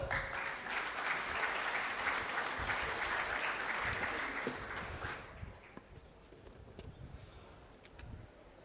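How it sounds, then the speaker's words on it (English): Warm audience applause at a school annual day celebration fills the hall steadily for about five seconds, then thins out into scattered lingering claps and room noise. "Let us welcome him with a warm round of applause."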